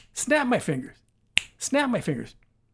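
One crisp finger snap lands alone in a short pause between two stretches of close, clear talking.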